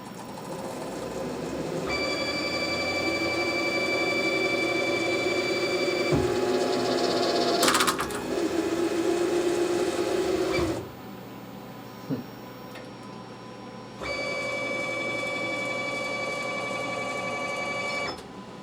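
A homemade clutch tap holder on a CNC machine drives a 1/4-20 tap three-quarters of an inch deep at 500 RPM, giving a steady mechanical whir with high whining tones that stops, then resumes after a short quiet pause.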